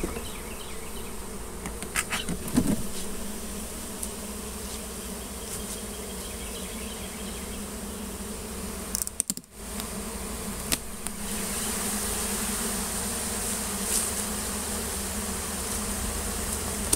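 Honeybees buzz steadily and loudly around an opened hive during a colony split, a dense continuous hum close by, broken by a few brief knocks and handling bumps.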